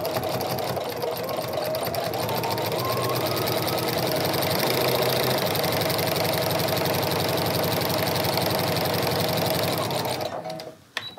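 A sewing machine fitted with a walking foot stitches straight quilting lines, a steady continuous motor whir with rapid needle clatter running close and loud for about ten seconds before stopping abruptly.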